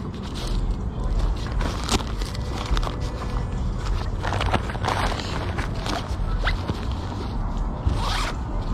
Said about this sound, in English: the zippers are good.